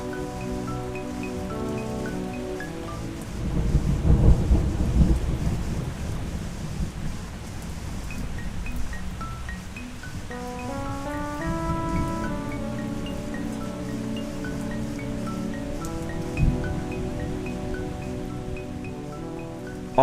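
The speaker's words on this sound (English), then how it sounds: "with the Rain and Thunder loop," A rain and thunder sound-effect loop, placed on the guitar track in Band-in-a-Box 2012, plays under sustained MIDI instrument notes, with continuous rainfall hiss and low thunder rumbles swelling near the middle and again later.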